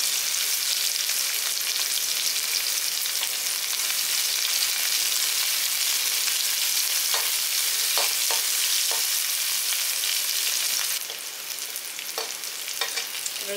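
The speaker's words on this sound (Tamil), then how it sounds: "வெங்காயம் போட்டு தாளிச்சிருக்கேன்." Small onions fry in hot oil for a tempering while sprouts are being cooked, giving a constant crackling sizzle with a few sharper pops and stirring scrapes, close and steady throughout.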